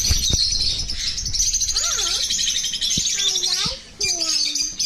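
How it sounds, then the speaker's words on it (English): English budgies and parrots chirping at close range, with bright continuous twittering and warbling calls plus several swooping whistles. Occasional sharp clicks and taps sound throughout. "Wow. English budgies."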